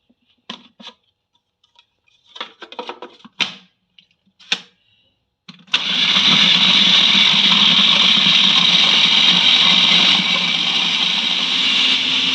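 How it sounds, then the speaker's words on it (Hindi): After several sharp clicks and taps, an electric vegetable chopper starts up loud and close and runs as a steady, high whirring for about seven seconds while chopping vegetables. "मैं इसको चॉपर के अंदर डाल के चॉप कर दूंगी"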